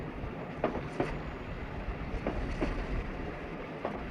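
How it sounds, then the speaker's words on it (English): A train at a station in Hong Kong, the first leg of a journey into China, gives a steady low rumble of rolling stock with a few faint clanks and knocks rising above it. "This is the start of the China train."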